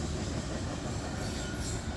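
A freight train on the D&H railroad rolls past with its rolling stock, a steady dense rumble of wheels on rails with a faint high squeal, loud and continuous throughout.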